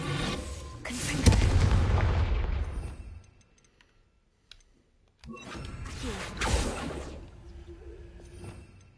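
A Confringo fire spell explodes in Hogwarts Legacy, landing as two loud, booming blasts a few seconds apart, each with a crackling roar that fades slowly, separated by a brief near-silent gap.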